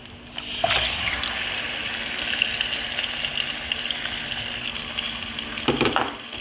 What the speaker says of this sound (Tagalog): i-fry lang po natin siya hanggang itong chicken ay maging a bit dark